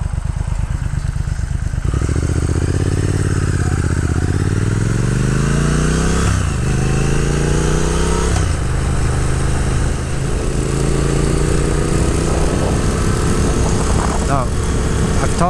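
A 2022 Triumph Speed Twin motorcycle ridden on country roads, its engine droning steadily and climbing in pitch through gear changes as it accelerates, with a rider talking over the engine noise.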